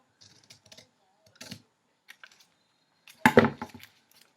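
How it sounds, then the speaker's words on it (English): Scissors cut up through a folded triangle of origami paper for an iris, giving sparse close snips and crisp paper rustles with pauses between, then one louder crunchy cut. "you're going to take your scissors, and this triangle here that you've just folded over, you're going to cut it right up to the top"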